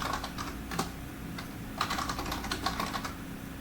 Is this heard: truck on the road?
no